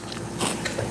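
One crisp bite into crunchy, very dry freeze-dried yogurt-covered fruit, a short close crackle in a quiet room.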